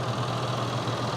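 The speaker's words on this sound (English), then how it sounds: "Very smooth engine, low speeds and everything." Low, steady V8 engine rumble of a Land Rover Defender 110 at idle, a smooth continuous drone with no speech over it.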